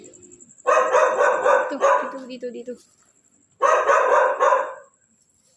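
A dog barks out in the open at night near a cemetery, in two dense bursts of rapid barking, fairly loud, with a person speaking in between.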